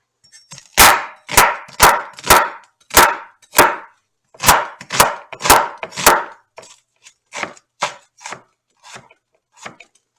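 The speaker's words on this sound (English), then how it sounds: "Let's go ahead and cut the onion up." Knife chopping an onion on a cutting board while preparing sweet pork pepper rice: about a dozen sharp, close strikes in an uneven rhythm, loud at first and then lighter and softer toward the end.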